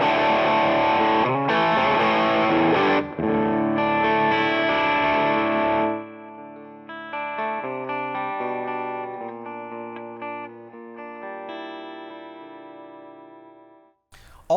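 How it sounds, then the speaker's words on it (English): Electric guitar through an MXR Prince of Tone mini overdrive pedal with a Marshall-like bite, first strummed chords that sound saturated and gritty, then single sustained notes ringing out, loud and close, with no voices. "And this is a pedal that has a bit more of that Marshall-y bite."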